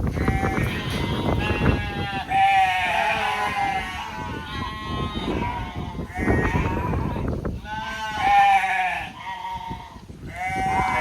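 Hornless sheep on a farm bleat repeatedly and loudly nearby, several overlapping calls rising and falling across the scene with faint rustling between them.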